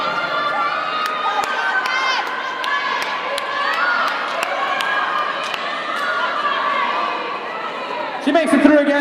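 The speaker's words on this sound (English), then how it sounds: "I think that was the most cheering for Toronto I've ever heard in my life." Roller derby crowd cheering steadily through a bout between Toronto Smoke City Betties and Toronto Chicks Ahoy, a dense roar of voices and shouts from a packed venue that swells near the end.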